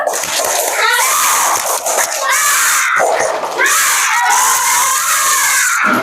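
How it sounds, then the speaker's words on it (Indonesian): A class of children performs a spirit clap and cheer, shouting together in loud chanted bursts with rhythmic claps, the voices rising and breaking off in waves close by. "Tepuk semangat."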